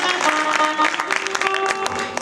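A crowd at a religious gathering with an akhand jyot claps in a scattered, irregular patter, fairly close, with a sustained tone running underneath the claps throughout.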